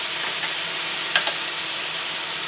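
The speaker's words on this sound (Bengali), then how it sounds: "উপরের মধ্যে হাফ চামচ আদা বাটা দিলাম" Ginger paste and garlic fry in hot oil in a pan for a Katla fish head dish, giving a steady, loud, close hiss of sizzling throughout, with a couple of faint clicks midway and no talking.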